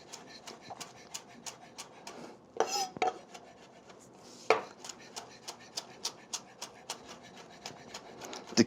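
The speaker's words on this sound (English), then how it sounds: "And what I like to do is just do a fine chop on them." A knife finely chopping flat leaf parsley on a board, quick regular taps with a scrape or two in between, close and fairly quiet with no talking.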